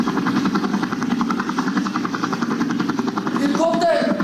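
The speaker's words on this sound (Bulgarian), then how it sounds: "Това е хеликоптер." A helicopter's steady, loud rotor chop throbs in close range throughout, growing slightly stronger toward the end, with voices and a brief tonal sound riding over it.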